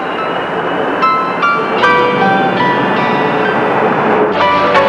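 An aerial tramway running, with a rolling mechanical rumble overlaid by sharp metallic squeals and clicks as the cabin passes over its supports, close and loud.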